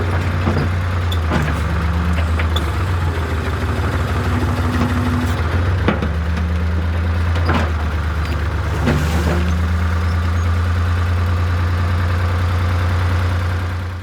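A backhoe tractor engine runs steadily after a water pump replacement, a loud continuous idle with a low drone and occasional clanks and short rising whines throughout.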